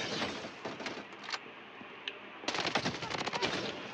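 Rapid bursts of VSS rifle fire from the mobile shooter game Bloodstrike Mobile, two quick volleys of crisp shots separated by a short lull, close and loud.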